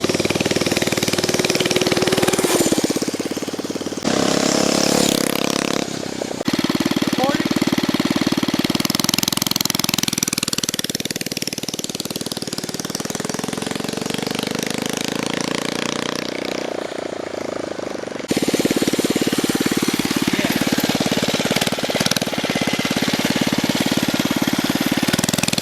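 A small 79cc Predator gas engine on a homemade scooter runs continuously with a muffler fitted, a loud, buzzy, steady drone that shifts pitch as the throttle changes and the rider pulls uphill.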